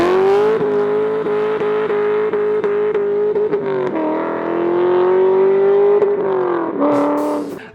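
Loud, close V8 car engine revving steadily with a strong droning tone, rising and falling in pitch as the throttle changes, with no talk over it.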